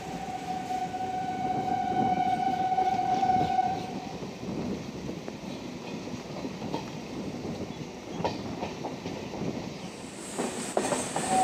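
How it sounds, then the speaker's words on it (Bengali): A slow Santipur–Krishnanagar local passenger train rolls along the tracks with a steady rumbling drone and clattering wheel noise, a sustained whistle-like tone early on, and rhythmic clicks later as it runs. "শান্তিপুর থেকে অনেকটা পথ চলে এলাম, কিন্তু ট্রেনের গতি একই রকম, একদম ধীর গতির ট্রেন।"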